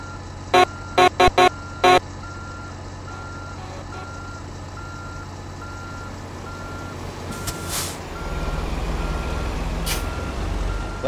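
A semi truck with a trailer reverses in American Truck Simulator, its backup alarm giving a quick series of loud beeps over a steady engine drone, followed by a hiss of air brakes and a louder rumble as the engine revs up.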